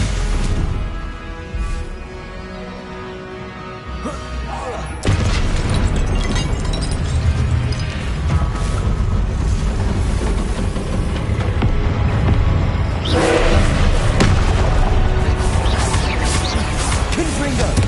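Repeated Confringo fire spells bursting in combat in Hogwarts Legacy, a run of loud booming blasts and crackling impacts layered over dense battle noise, growing heavier after the first few seconds.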